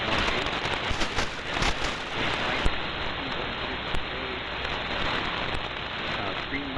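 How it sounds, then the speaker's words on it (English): Steady rain falling outdoors in Orinda, California, a dense continuous hiss of drops on surfaces with a few brief louder taps, no voices over it. "Newsflash, it's raining again here."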